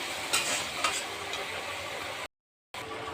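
Chopped onions and green chilies with a little salt frying in oil for a mutton curry, giving a steady close sizzle with occasional stirring scrapes. The sound cuts out briefly near the end.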